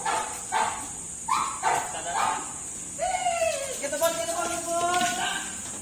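A dog barks several times in short bursts, then gives a run of higher yelping barks, over a steady background of insect chirping.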